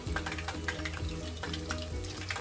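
Chicken pieces sizzle and fry steadily in a pan for honey walnut chicken, with a constant bubbling hiss and a few soft scraping taps throughout.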